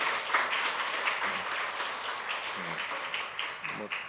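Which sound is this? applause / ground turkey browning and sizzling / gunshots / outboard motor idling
applause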